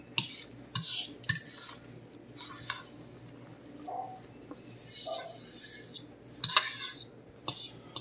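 Potato pancake batter stirred in a bowl with a utensil, giving irregular scraping clinks and taps of metal against the dish, close and moderately loud over low kitchen background hum.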